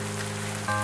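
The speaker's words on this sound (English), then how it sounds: "You're staring at the rain." Rain falls steadily in a farming video game, a continuous dense patter that fills the whole moment, with a tonal hum rising partway through.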